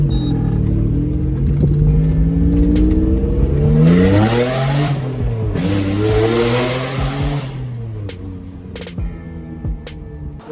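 A Toyota 1MZ-FE 3-liter V6 fitted in an MR2 Spyder revs up and down in a close, loud, continuous run of rising and falling engine pitch that eases off toward the end.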